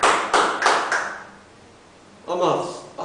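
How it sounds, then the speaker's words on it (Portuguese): A church congregation claps in a few short, sharp bursts, then falls quiet before a voice begins speaking. "Pode aplaudir o Senhor."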